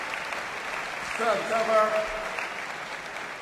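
Crowd applause and cheering swell briefly at a badminton men's doubles final at the 2012 European Championships, rising under a commentator's voice and fading again within a couple of seconds.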